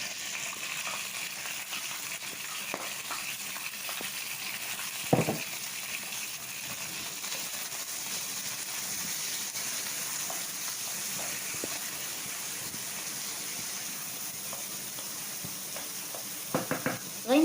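Onion frying in a pan for rice with chicken, carrots and green pepper gives a steady, soft sizzle with occasional stirring scrapes and a louder clack midway, and no voices.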